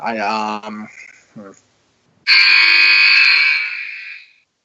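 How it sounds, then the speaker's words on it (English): People talk briefly during a trivia game, then after a pause a loud, harsh electronic game show buzzer blares steadily for about two seconds before cutting out. "That buzzer was loud."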